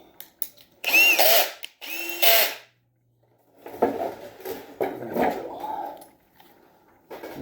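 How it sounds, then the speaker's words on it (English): Power drill boring through a speed controller mount for a 12V speed controller, two loud whining bursts near the start, then a pause and a longer, rougher stretch of drilling with clatter. "Because we're going to have to drill."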